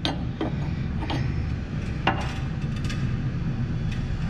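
Metal clicks and light knocks sound from a box truck roll-up door operator as its nuts are loosened, a few sharp ticks scattered over a steady low hum.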